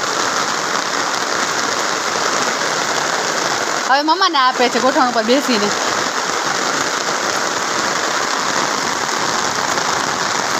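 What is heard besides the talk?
heavy rain falling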